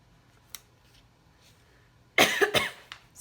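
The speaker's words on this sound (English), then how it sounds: "I am so sorry with all this coughing" A short burst of loud, close coughing, two or three harsh hacks in quick succession, with a faint tap earlier and quiet room tone otherwise; a woman working on a paper planner with stickers.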